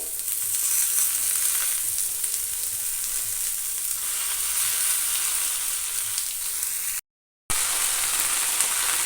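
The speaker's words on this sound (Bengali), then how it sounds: "আমি এইবার শাকটা দিয়ে দিলাম একই সঙ্গে" Red amaranth greens go into a pan of lightly fried vegetables over a high gas flame, and a broad, even hiss of frying carries on throughout, broken by one brief dropout near the end.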